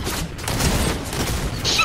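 Dense, continuous gunfire in a Fortnite battle royale trios match, with rapid overlapping shots and booms sustained at high level throughout, with no talk.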